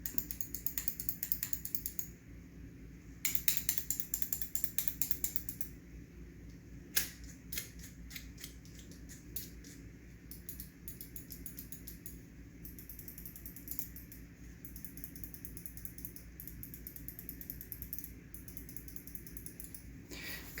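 Rapid mechanical clicks of a Finalmouse Starlight 12 Achilles gaming mouse's buttons close to the ear, some in quick bursts and others spaced out, over a quiet background hiss with no talking.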